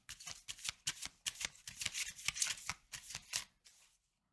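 Tarot cards being shuffled, a quick run of crisp riffling bursts and soft slaps that repeat for about three and a half seconds before stopping, close and clear with no talking.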